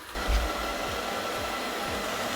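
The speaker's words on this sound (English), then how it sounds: "if I hit start, our robot vacuum is on its way" An ILIFE V5s Pro robot vacuum-and-mop starts up with a sudden onset into a steady, loud motorized whir that holds evenly without pause, with no talking.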